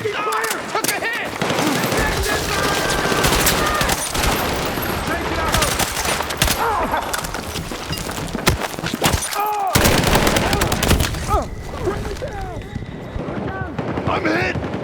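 Battlefield 6 game combat is loud and close, with rapid bursts of automatic gunfire, scattered single shots and impacts, and soldiers shouting between them.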